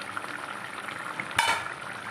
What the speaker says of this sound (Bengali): দেখুন ঝোলটা এবারে টকবক করে ফুটে গেছে।